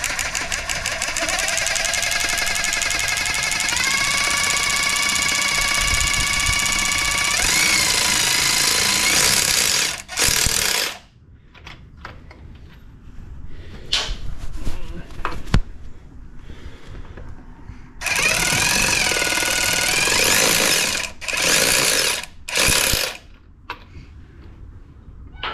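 A power tool drives fasteners while Ford mud guards go onto a 2021 Mustang Mach 1, loud rattling bursts with pitch sweeps that stop and restart, separated by quieter gaps with clinks and handling noise.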